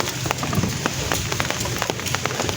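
Heavy rain pours down steadily, a dense patter of drops drumming on a hard surface, with no voices.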